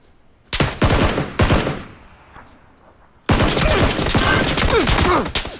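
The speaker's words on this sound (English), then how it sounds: "He's shooting at me." Gunfire from an enemy in a video game, heard as a couple of quick loud bursts of rapid shots, then a quieter gap, then a long continuous sustained burst of close, heavy automatic fire.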